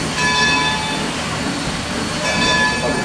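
Steam engine 26 running at Steamtown in Scranton, Pennsylvania: a continuous loud rumble of the train on the rails, with high squealing tones near the start and again near the end.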